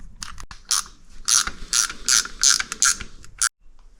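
An Oldsmobile 455 V8 engine being turned over by hand makes a series of rhythmic metallic ratcheting clicks, about eight close, distinct bursts before stopping.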